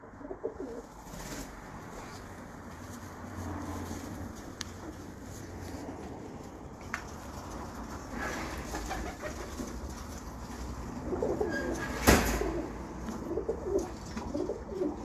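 Breeder pigeons in a loft give soft, low cooing calls scattered over a quiet, faint background, with a few brief knocks and rustles.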